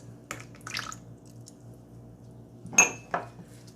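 Bread dough being mixed with egg whites and oil in a bowl, heard as a few brief utensil clinks against the bowl and soft wet squishes over near silence, no speech.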